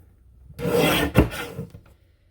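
A paper trimmer slices through a sheet of green paper with one close, brief rasping cut that swells and then fades, alone and without speech.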